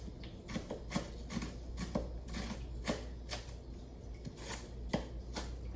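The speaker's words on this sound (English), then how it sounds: "once we get these chopped up, then we're gonna want to saute them just a little bit" Vegetables for spaghetti sauce are chopped with a knife on a board, giving irregular sharp chops close by, spaced roughly every half second to a second, over a low steady kitchen hum.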